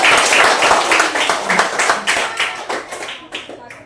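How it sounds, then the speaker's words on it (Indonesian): Children's or group clapping at a church class session, a burst of hand claps that starts strong and tapers off over a few seconds, with a voice faintly present underneath. "Oke, tepuk tangan"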